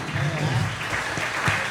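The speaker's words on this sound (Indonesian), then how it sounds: "tepuk tangan buat Kang" Audience applause at a religious study gathering, a short, dense patter of clapping from a crowd with a few voices mixed in underneath.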